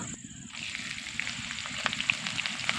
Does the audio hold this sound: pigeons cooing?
no